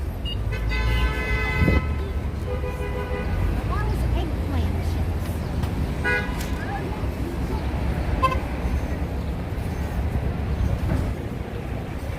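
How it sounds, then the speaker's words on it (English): Busy New York City street traffic at West 51st Street and 6th Avenue, with several car horn toots and honks over a steady roar of passing vehicles, with voices talking intermittently. "The traffic is pretty intense."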